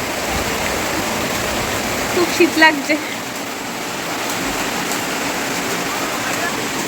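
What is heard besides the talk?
heavy rain blowing onto balcony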